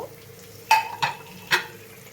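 Pointed gourds frying in spiced masala in a vegetarian Bengali dish, a low sizzle punctuated by three sharp stirring clinks of a spatula against the pan.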